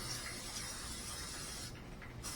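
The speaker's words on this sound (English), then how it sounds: "olive oil cooking spray" Olive oil cooking spray misted into a baking dish, a faint steady hiss for about two seconds before it cuts off, with no talk.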